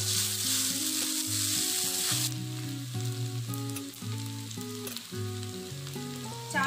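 Street-food style veg chow mein noodles stir-fried with vegetables sizzle loudly in a hot pan, with steady spatula scraping and stirring close by and no voices.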